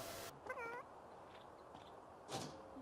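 A cat meows once in The Sims 3 video game, a short mid-pitched call over a soft game ambience, followed later by a brief thud.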